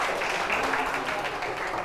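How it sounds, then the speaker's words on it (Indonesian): An audience gives brief, fairly soft applause for the winners at an informatics teacher training session, a continuous patter of hands with faint voices underneath. "Tepuk tangan untuk mereka."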